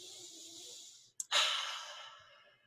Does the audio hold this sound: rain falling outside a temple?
no